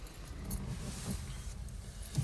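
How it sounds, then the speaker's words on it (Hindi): Car keys jingle in short, faint metallic bursts as they are handed over, several small clinks spread across a couple of seconds against a quiet background. "ये लो चाबी"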